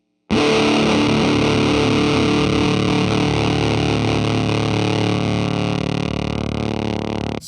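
A Gibson electric guitar plays through heavy distortion, loud and sustained, with thick ringing chords that run unbroken for about seven seconds before cutting off abruptly. No voices are heard.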